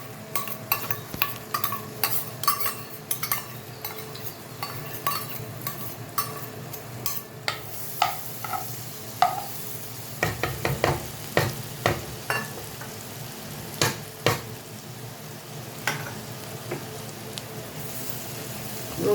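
Grated garlic frying in melted butter in a pan, a steady soft sizzle broken by intermittent clicks and scrapes of stirring.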